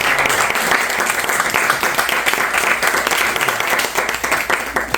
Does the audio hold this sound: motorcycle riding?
no